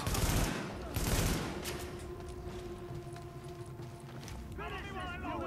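Gunfire in Tom Clancy's The Division comes as bursts of rapid shots in the first second and a half, fading into ongoing game noise, with a voice talking over it near the end.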